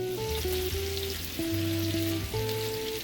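Alaskan salmon steak frying in butter and oil in a pan, producing a loud, steady sizzle close up with no talking.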